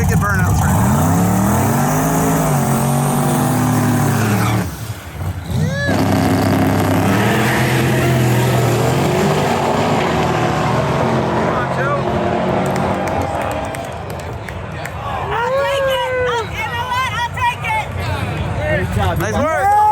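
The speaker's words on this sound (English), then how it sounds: "you're about to see some wicked burnouts right now" At a Roadkill Nights street drag racing event, a car does burnouts with a loud revving engine and tire roar over crowd chatter, then the engine fades as excited voices and cheering take over.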